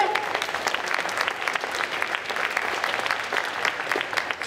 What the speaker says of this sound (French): Donc on peut les applaudir très fort, s'il vous plaît.